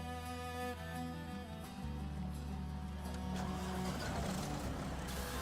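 Kenworth truck in the SnowRunner video game, its engine droning steadily with low harmonic rumble and shifting pitch, rising slightly toward the end, with no talk over it.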